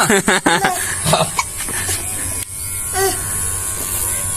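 Electric clipper buzzing steadily while shaving a head bald, close and continuous, with brief speech, a cough and a chuckle at the start before the hum runs alone.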